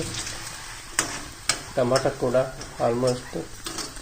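Tomatoes fry in a pan for kabuli chana curry, a close sizzle with a few sharp stirring clacks while a person talks over it.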